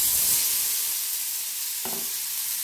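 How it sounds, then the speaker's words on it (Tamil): Ground jackfruit paste sizzles steadily in hot ghee in a pan while jackfruit halwa is made, a close, continuous frying hiss with a brief stirring scrape near the end. "அதே நெய்யில் வந்துட்டு நம்ம அரைச்சி வச்ச பேஸ்ட்டை சேர்த்துடலாங்க."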